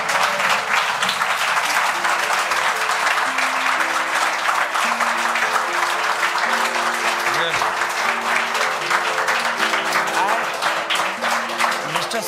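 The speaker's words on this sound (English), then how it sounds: "Please everyone, I want everyone to stand up and clap for them." An audience stands and claps for soldiers at an Army Day public speaking class, with dense, sustained applause filling the room and a melodic tone line running underneath throughout.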